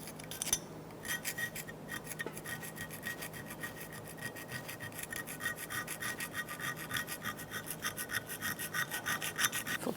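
A wire brush scrubbing Fiat front brake parts, a steady rapid scratchy rasping in even back-and-forth strokes, close and continuous with no talk.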